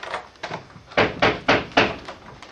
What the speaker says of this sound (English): What's that knocking?